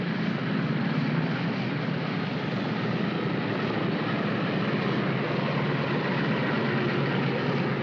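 A large propeller airplane taxis on a runway in a 1950 military airlift setting, its engines droning loud and steady for the whole stretch without pause.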